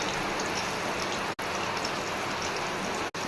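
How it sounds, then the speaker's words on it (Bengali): Steady rain pours down outdoors during a rainy spell while fish fritters cook, a dense continuous hiss with two brief dropouts. "এদিকে বৃষ্টি পড়ছে, বৃষ্টি"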